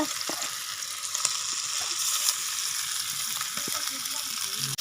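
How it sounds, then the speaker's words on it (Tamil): Masala-coated chicken feet sizzle in a pan for a spicy fry while being stirred, with a steady close frying hiss broken by light scraping taps of the spoon. "நம்ம மிக்ஸ் பண்ணி வச்சுருக்க கோழிக்காலை வந்து சேர்த்துக்கலாம்"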